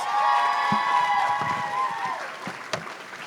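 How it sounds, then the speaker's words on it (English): Audience applause at a Wisconsin AmeriCorps anniversary celebration and opening ceremony, a steady dense wash of clapping from a crowd with lingering tonal sounds at the start and a few louder single claps near the end. "Let's give Ashley another round of applause, because"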